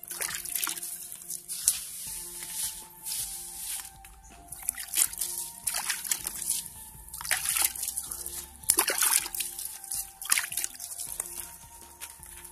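Water pours and sloshes over a pile of bamboo leaves being soaked for compost, splashing in uneven bursts with trickles and drips between them, close and fairly clear.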